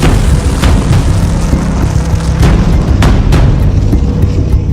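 K9 Vajra self-propelled howitzer firing: heavy, loud booming blasts with several sharp reports spaced a second or so apart over a dense, continuous roar.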